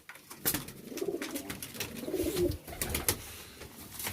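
Large crested, feather-footed pigeons coo nearby at night in low, soft, throaty calls, a couple of rolling phrases over a quiet background with occasional light rustles.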